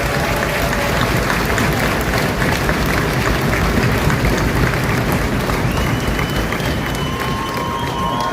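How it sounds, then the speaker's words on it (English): Sustained loud applause from a large crowd at a military graduation for drill sergeants at Fort Jackson, South Carolina, dense continuous clapping with faint cheers and a brief whistle. "Please join me in a round of applause for the drill sergeants from Rock Force."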